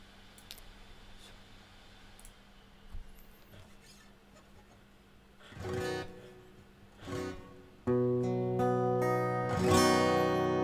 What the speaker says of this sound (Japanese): まずギターの音量を確かめますね。